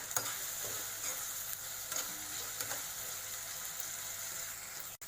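Boiled peas are stirred in a hot pan, a low steady sizzle with faint scraping and light ticks of the spoon, ending in a short knock, fairly quiet and without voices.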